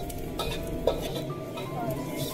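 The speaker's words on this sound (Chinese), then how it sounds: "放入蒜子、姜片炒香， 加入辣椒，" Garlic cloves, ginger slices and chili being stir-fried in a wok, a steady close sizzle with scraping and stirring clatter throughout and one sharper clink partway through.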